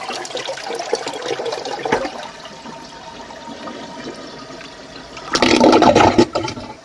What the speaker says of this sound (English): By lifting that, water will go down.